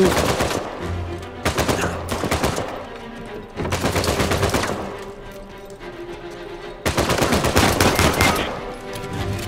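Gunfire in Uncharted 4, loud bursts of rapid shots in several clusters separated by brief lulls, close and punchy, with game effects filling the gaps.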